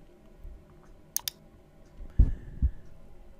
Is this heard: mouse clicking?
yes